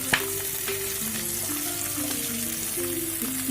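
Onion and capsicum fry in a pan for a mushroom-paneer dish, giving a steady close sizzle with a few light stirring scrapes and no voices.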